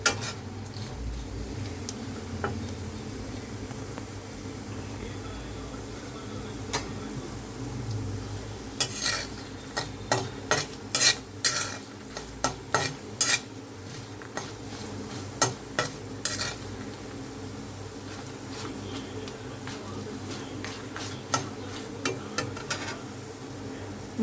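Coriander seeds, cumin, dried red chilies and garlic dry-frying in a pan, with a faint steady sizzle broken by a string of sharp metallic scrapes and taps from a spoon stirring the spices against the pan.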